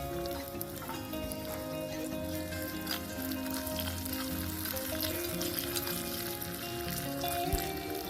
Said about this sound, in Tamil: வெங்காயம் லைட்டாக வதங்கினதும் நம்ம மீதம் வச்சுருக்க பூண்டை இதில் டைரெக்டாக சேர்த்துக்கலாம்.